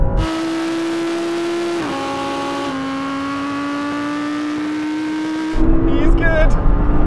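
Audi R8 cars in a drag race: a loud, steady engine drone climbs in pitch, with two quick upshifts. It ends in a sudden broad roar of road and wind noise.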